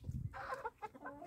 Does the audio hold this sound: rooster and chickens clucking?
yes